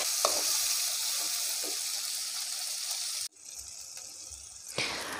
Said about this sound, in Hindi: इसके बाद हम इसमें कैप्सिकम ऐड करेंगे और उसको भी हम ऐसे ही एक दो मिनट सॉटे करेंगे